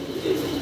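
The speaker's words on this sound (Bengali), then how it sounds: "রেসার কবুতর গ্রিজেল কালার" A grizzle-coloured racing pigeon gives a short, soft, low coo, close by and alone.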